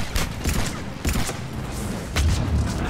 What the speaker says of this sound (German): Schwerer Beschuss aus dem ersten Stock.